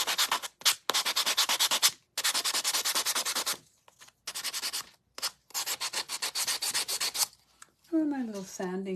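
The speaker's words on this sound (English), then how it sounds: "I'm going to give it a little sanding around the edges." Close, rapid back-and-forth rasping of a sanding file on an edge, in bursts separated by short pauses, ending with a brief squeaky sound.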